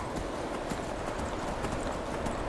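Hooves of a horse ridden in the video game Skyrim, a steady rapid clip-clop gait over a constant wind-like rushing background, moderately quiet and continuous throughout.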